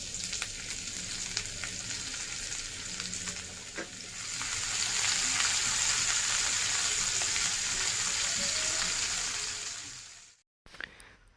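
Chopped onion sizzles steadily in hot oil with whole dried red chilies and cumin seeds. The frying grows louder partway through, holds as a bright, continuous hiss, then cuts off near the end.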